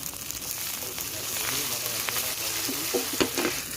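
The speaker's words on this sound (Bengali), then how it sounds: "পেঁয়াজ একটু ভেজে নিছি, এখন দিয়ে দেব আদা বাটা, রসুন বাটা" Ginger and garlic paste fried with onions in a pan, a close sizzle under stirring, with a few louder spatters and scrapes near the end.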